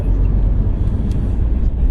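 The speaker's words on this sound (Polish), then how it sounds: "I leci transport drewna. Wyprzedziliśmy już jedną ciężarówkę." Car on the road while overtaking a timber transport truck: a loud, steady low rumble of engine and tyre noise from inside the vehicle, continuous with no talk.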